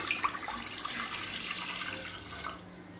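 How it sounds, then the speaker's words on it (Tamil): Water poured from a vessel into a pressure cooker while making a Tamil vegetarian side dish, a steady splashing trickle that holds for a few seconds before easing off near the end, close and fairly quiet. "குக்கரில் தேவையான அளவு தண்ணி சேர்த்துக்கலாங்க"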